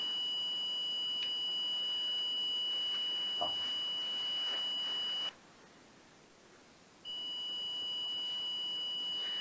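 A ghost-hunting detector emits a steady high electronic tone in a dark abandoned train station cellar, cutting out briefly midway before resuming, faint and continuous with no talk.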